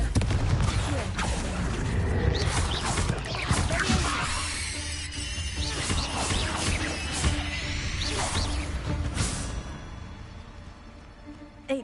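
Confringo fire spell exploding in Hogwarts Legacy, a dense, loud barrage of blasts, crackles and crashing impacts filling the whole stretch before cutting off near the end.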